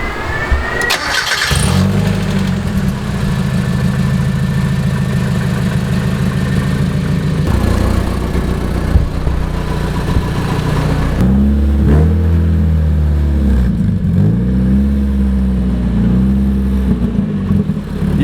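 A Mazda Miata project car on its first test drive, its engine loud and close throughout, idling steadily with several revs rising and falling and a shift in tone partway through, no talk.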